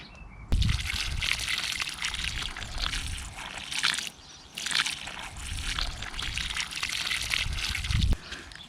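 Freshly planted garden seedlings are watered in two long bursts from a can or hose. Each is a loud, close splashing pour with a short pause between them and a clunk where each burst starts and stops.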